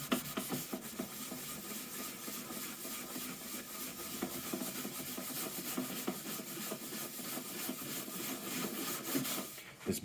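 Black paint being scraped off a wooden top box, a continuous rasping scrape with quick repeated strokes, close and steady with no talk.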